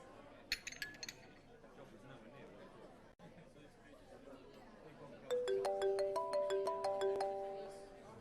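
A mobile phone ringtone chimes in a repeating melodic pattern, faint at first and then louder, amid dining-room chatter and clinking glass and cutlery.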